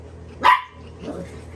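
A single sharp bark from a micro petite English Teddy Bear Goldendoodle puppy, close and loud, followed by a softer low grumble in a quiet room.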